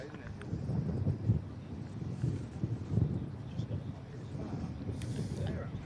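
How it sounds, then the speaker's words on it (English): Strong, steady wind buffets the microphone at an open-air golf driving range at Royal Portrush, a continuous low rumble with gusty swells throughout. "so that wind is pretty strong, isn't it, Alfie?"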